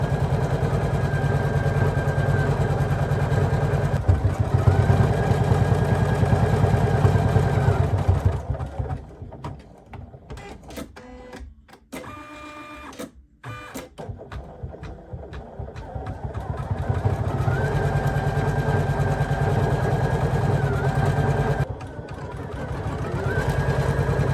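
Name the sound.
embroidery machine stitching a bucket fishing hat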